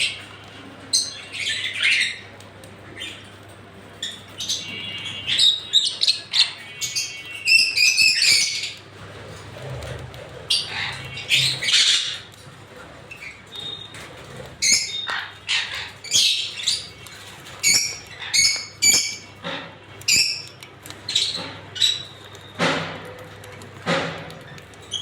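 Lovebirds in an aviary give shrill, repeated squawks and chirps in uneven bursts, loud and close, with short gaps between calls.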